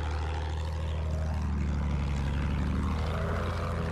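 Propeller attack plane engine in Battlefield 1, a loud, steady droning buzz with a deep rumble, continuous and close throughout.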